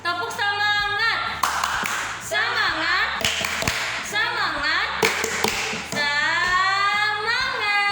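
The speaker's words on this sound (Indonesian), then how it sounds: "kita tepuk semangat dulu biar lebih semangat" A kindergarten class's 'tepuk semangat' cheer: sharp hand claps in a patterned rhythm, alternating with children's voices chanting along, loud and close.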